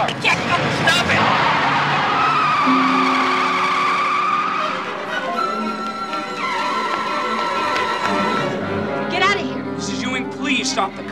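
A car driven recklessly by a drunk driver skids, with a long squealing tire whine running loud and continuous under urgent, overlapping shouting voices.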